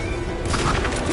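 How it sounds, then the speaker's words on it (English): Machine gun fire rattles in a video game, a loud dense burst of rapid shots with heavy booming low end across the short moment. "Machine guns."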